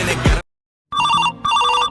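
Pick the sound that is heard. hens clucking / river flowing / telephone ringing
telephone ringing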